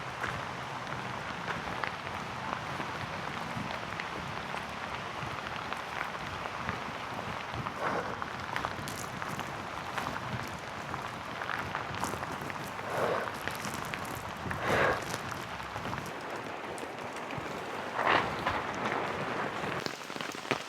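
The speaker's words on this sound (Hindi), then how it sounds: "ओ बहुत ज़्यादा बारिश आ गई," Heavy rain pours down in a forest, a constant dense hiss of drops with occasional louder splashes and patters, steady and close throughout with no talk.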